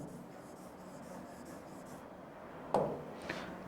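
Chalk or marker scratches on a classroom board, a quiet steady rubbing stroke followed by two sharper taps and strokes near the end, with no talk.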